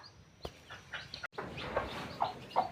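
A hen that has just hatched chicks clucks softly nearby in a few short, scattered calls over quiet background noise.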